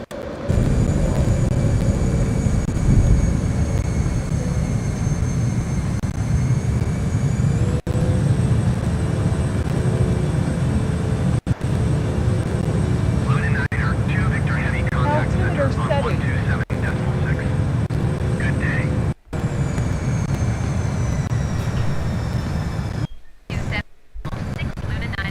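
An airliner climbing after takeoff in a flight simulator game, a constant loud engine roar and drone throughout, with brief dropouts and a voice calling out radio communication over it.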